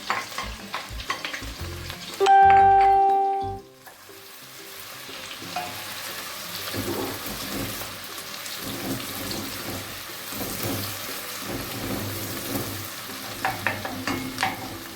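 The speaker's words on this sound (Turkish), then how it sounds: "Yağımız erisin soğanımızı kavurmaya başlayacağız." Onions sizzle and crackle steadily in hot melted fat in a pot, with a clatter and a brief loud clang near the start, then a continuous frying hiss.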